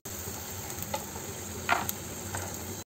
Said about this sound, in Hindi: हम ये मूँगफली है इसको फ्राई कर लेंगे।